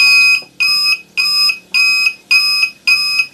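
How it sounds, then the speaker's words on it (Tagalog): A low-budget motorcycle anti-theft alarm wired with a flasher relay sounds loud, close beeps, six evenly spaced bursts with short gaps between them, on its own without talk. "So dagdag tunog pa rin dun sa alarm natin kasi malakas din to."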